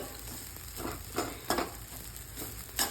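Flour being dry-roasted for puli upma in a pan gives a soft, low sizzle, with several light scraping strokes of stirring spaced irregularly across the short stretch.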